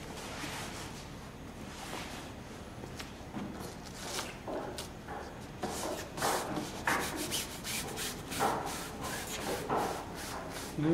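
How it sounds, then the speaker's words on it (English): A small heat iron rubs plastic covering film onto a Piper model airplane wing, giving a soft continuous scuffing and rubbing texture with faint strokes, close and quiet with no talking. "Just a little rub here to make sure that we've got the..."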